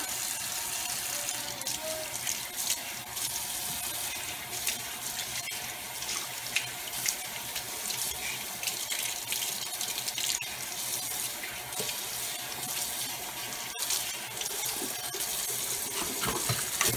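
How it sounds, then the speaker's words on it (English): A kitchen faucet runs steadily while a cooking pot is washed out, a continuous close hiss and splash of water, with occasional clinks from the pot. "Then I'm going to wash my pot out."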